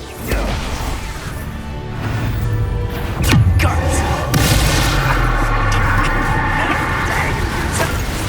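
An Expulso spell explosion in Hogwarts Legacy on PS5, a sharp loud blast around the middle of the clip followed by a rumbling, crackling aftermath under game combat noise.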